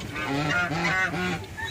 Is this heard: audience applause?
no